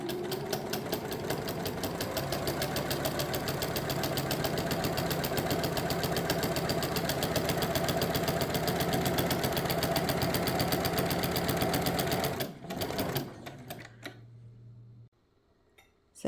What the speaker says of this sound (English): So I'm stitching both edges so that there's no raw edge to my hanging sleeve.